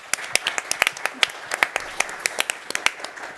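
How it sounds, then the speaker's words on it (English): Sparse applause from a small audience at a private equity industry event, with individual sharp claps standing out distinctly against a quiet room. "So big applause for him."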